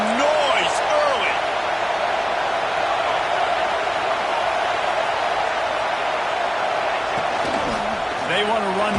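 A stadium crowd at a Florida State versus Michigan college football game keeps up a loud, steady roar throughout, with a commentator's voice briefly audible near the start and end.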